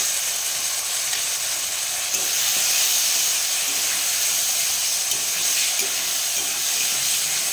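Ginger and green chili paste fries in a hot pan with a steady hissing sizzle and faint pops, close and constant with no voices.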